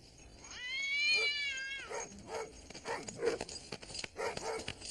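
A cat meows once with a long, rising-and-falling cry, followed by softer, scattered small sounds and light rustling nearby; no speech is heard.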